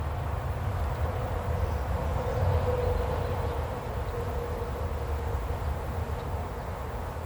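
Honeybees from a nuc colony being moved into a new hive, a continuous close, dense buzzing hum that holds steady throughout, with no speech.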